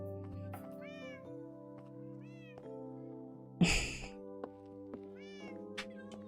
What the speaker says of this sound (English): Cats. These are also not my cats.